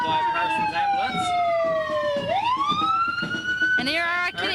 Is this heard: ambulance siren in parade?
yes